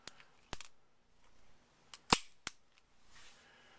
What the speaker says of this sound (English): This gun's a lot of fun to shoot, and it's still heavy enough that way that it doesn't recoil all that bad.